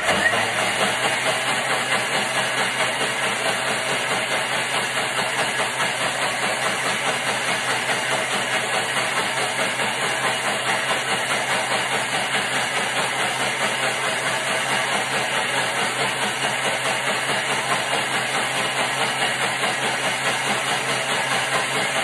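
A Thermomix running at speed 10 to blend coconut milk, giving a steady, loud whirring drone with a hissy edge that continues unbroken for about twenty seconds, with no voices.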